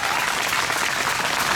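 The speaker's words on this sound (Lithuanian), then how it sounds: "Mėly žiūrovai, garsiais plojimais" Audience applause welcoming the Kybartai wind instrument orchestra at a Father's Day concert, a dense, steady wash of clapping from a full crowd, loud and unbroken.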